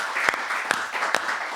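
An audience applauds a guitar group after a master-class performance: steady close clapping from a crowd, with a few sharper individual claps standing out above the wash, and no talk.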